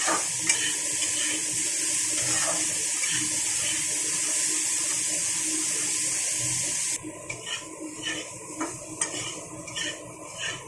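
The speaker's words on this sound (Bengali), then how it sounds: "সয়াবিনটা আমি ভালো করে ভেজে তুলে নেব।" Soybean chunks frying in hot oil, a dense, bright hiss with crackles and occasional clinks of a utensil against the pan, steady throughout and close, with no voices.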